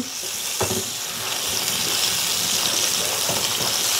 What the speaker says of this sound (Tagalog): igigisa lang natin to para lumabas yung katas ng kamatis